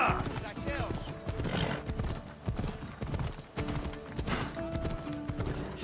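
A horse gallops with steady rhythmic clip-clop hoofbeats and an occasional whinny in the video game Assassin's Creed Odyssey, moderately quiet, with voices talking over it.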